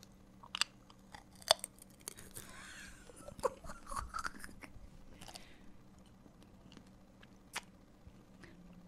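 Crunchy bites and chewing of a cinnamon apple snack, a few sharp crunches spaced through the clip against a quiet kitchen background, close and fairly soft.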